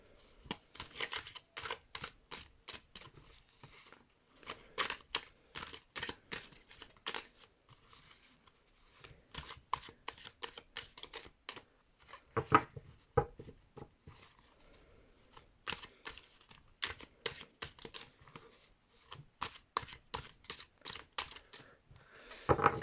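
A deck of oracle cards shuffled by hand up close, with rapid rustling riffles and snaps in repeated bursts separated by short pauses.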